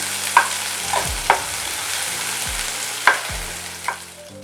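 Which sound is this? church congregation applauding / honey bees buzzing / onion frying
onion frying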